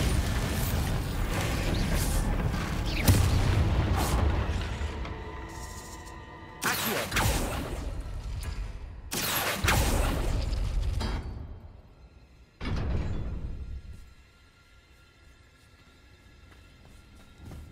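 Bombarda blasting spells detonate in Hogwarts Legacy, about three loud booming explosions in sequence over a continuous game soundscape, with the rumble fading to a quieter ambience near the end.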